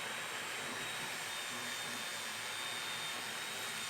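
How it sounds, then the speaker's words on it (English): An electric blower inflating a wacky inflatable tube man, a steady loud fan roar and rushing air that holds unchanged throughout, close with no voices. "The blower is strong, but not that strong, as you can see."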